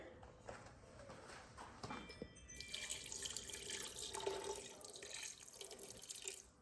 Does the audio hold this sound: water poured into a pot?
yes